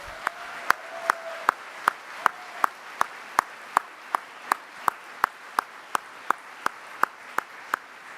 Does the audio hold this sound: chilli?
no